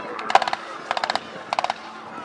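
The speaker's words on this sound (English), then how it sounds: "he still has his cannon and his machine gun fire." Three short bursts of rapid aircraft machine-gun fire at a history festival display, each a quick rattling string of shots, separated by brief pauses.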